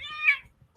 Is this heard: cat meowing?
yes